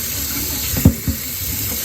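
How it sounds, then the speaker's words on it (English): Tap water runs steadily over a block of beeswax at a sink, a constant close hiss with a couple of soft splashes and knocks partway through. "I'm just going to rinse it."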